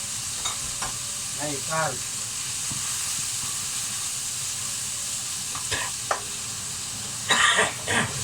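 Garlic butter sizzles and hisses steadily in a hot pan while being stirred, with occasional scraping and clinking of the utensil, and a voice speaks briefly during the cooking.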